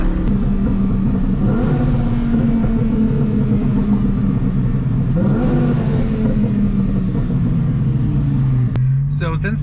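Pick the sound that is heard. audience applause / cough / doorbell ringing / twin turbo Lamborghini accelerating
twin turbo Lamborghini accelerating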